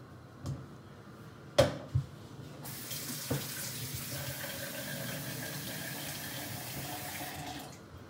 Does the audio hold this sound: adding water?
yes